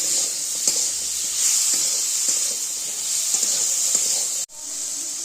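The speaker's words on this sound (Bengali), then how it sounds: "একটু সবজিটা ভেজে নেবো যাতে সবজির কাঁচা গন্ধটা না থাকে।" Pumpkin greens with salt and turmeric fry in a pan, giving a steady, close sizzle and hiss with a few soft stirring clicks and a brief cut near the end, with no talking.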